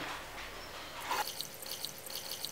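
Water poured from a cup into a deep, heavy-bottomed pot holding sugar for amla murabba, a short quiet splash and trickle followed by a few soft drips.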